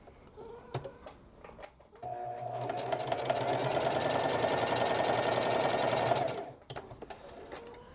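A sewing machine quilts fabric strips, starting with light handling taps, then running in a steady loud continuous whir for about four seconds before stopping, with a few soft clicks around it.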